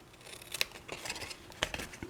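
Scissors cutting through material, two crisp close snips with a sliding rasp between them, quick and distinct against a quiet background.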